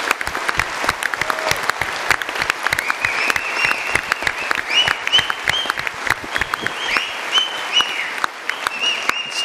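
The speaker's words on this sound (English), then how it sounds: "give every candidate here a round of applause," Audience at a political party leadership debate applauds the candidates, a sustained crackle of many hands clapping at moderate distance with whistle-like tones rising over it and no talking.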